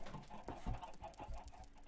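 Short bursts of clucking from a group of Minecraft chickens, several quick close calls in irregular succession with soft thuds between them.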